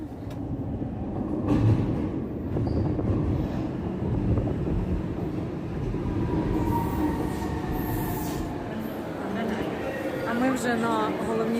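A train rolls toward Vienna's central station, its steady rumble and wheel noise continuous and fairly loud throughout, with faint squeals near the end and people talking quietly in the carriage.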